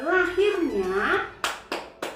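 A voice chants in a classroom clapping game, then three crisp hand claps follow in a steady beat, close and fairly loud.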